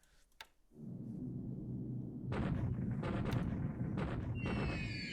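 Bombing raid explosions in the strategy game War in the Pacific, a dense rumbling barrage of blasts that swells after a brief sharp crack and continues steadily, with bursts layered over a low roar.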